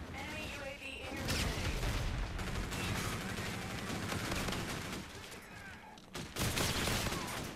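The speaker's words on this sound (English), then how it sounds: "There's a sentry gun, watch out." Dense, continuous gunfire from a sentry gun in a first-person shooter video game, loud and sustained with brief dips, with players' voices faintly mixed in.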